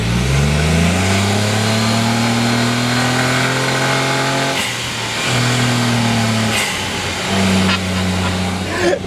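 A Honda S660 with a 64-horsepower engine revs hard and steadily for several seconds, its pitch climbing and dipping, then it drops off briefly before picking up again close by, with no talking.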